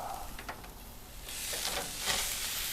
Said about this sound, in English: Get that steak on there. Got the super burner like we're at a steakhouse